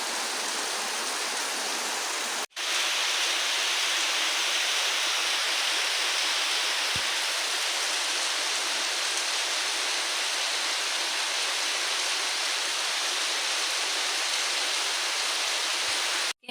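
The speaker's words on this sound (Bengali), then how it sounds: "প্রচুর বৃষ্টি।" Steady, dense broadband wash of heavy rain pouring continuously, loud and close, with no voices, after a brief cut near the start.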